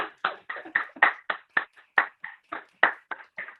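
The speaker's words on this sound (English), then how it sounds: "Keep clapping." About fourteen claps sound in a slow, fairly even rhythm at a school showcase, crisp and separate with silence between each, like a single pair of hands rather than a full audience.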